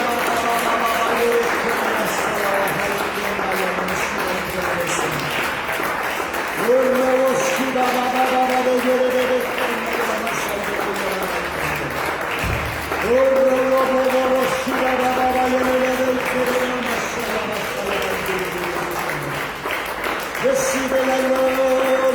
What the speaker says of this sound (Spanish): Vamos a darle un aplauso al Señor Jesucristo fuerte.